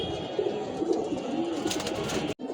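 Pigeons flying over Lalbagh coo steadily and fairly close over a soft outdoor background throughout the short stretch.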